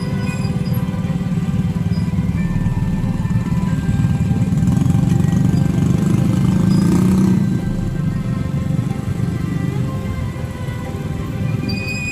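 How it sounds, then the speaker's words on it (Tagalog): Street traffic in Dumaguete, Philippines, mostly motorcycles, hums as a loud, continuous engine drone with passing revs swelling mid-way, close and dense, with no talk. "pinaka maraming sasakyan dito is motorsiklo"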